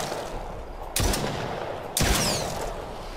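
Two sharp gunshots, about a second apart, crack through the Brookhaven Experiment VR shooter game, each followed by a brief decaying tail over a low ambient background.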